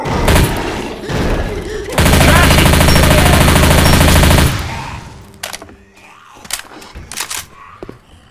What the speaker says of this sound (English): Guess I'll try the shotgun.